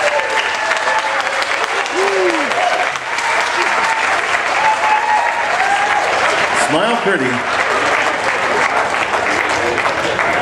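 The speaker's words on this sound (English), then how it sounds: "a nice big round of applause" A crowd at a country singing showdown at a county fair applauds the contest winner, with loud, sustained clapping and cheering throughout while a voice speaks briefly over it.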